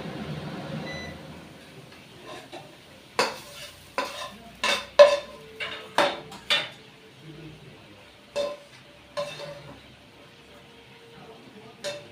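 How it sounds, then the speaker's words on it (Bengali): Cooked food is scraped from a pan onto a plate with a spoon: a run of sharp, close scraping knocks mostly in the middle stretch, thinning to a few later scrapes over a faint background, with no talking. "এবার আমি একটা থালার মধ্যে ঢেলে দিচ্ছি।"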